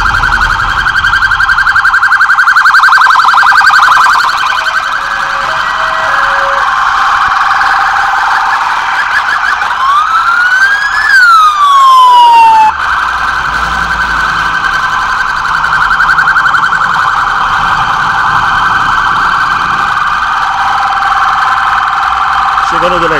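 A police vehicle siren arriving at a security operation in Mirassol d'Oeste, Brazil, wails loudly and steadily for the whole stretch, one sweeping rise and fall near the middle, with a running engine and faint voices underneath.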